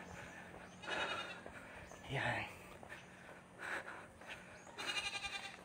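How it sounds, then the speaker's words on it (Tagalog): A goat bleats several times along a rural road in Laguna, Philippines. The bleats are spaced out and moderately close, with a person speaking nearby and faint outdoor background noise. "May kambing pa doon ay."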